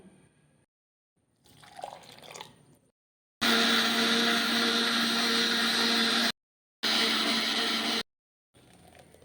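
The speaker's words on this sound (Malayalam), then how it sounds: "ഇതെല്ലാം കൂടെ ചേർത്തിട്ടൊന്ന് അരച്ചെടുക്കാം നന്നായിട്ട് പേസ്റ്റ് പരുവത്തിൽ അങ്ങനെ അരച്ചെടുക്കുന്നില്ല കുറച്ച് അരയ്ക്കുന്നേ ഉള്ളൂ" A mixer grinder coarsely grinds curry paste ingredients for a kappa and chickpea dish, running in two loud, steady whirring bursts separated by a short pause, after quieter handling sounds at the start.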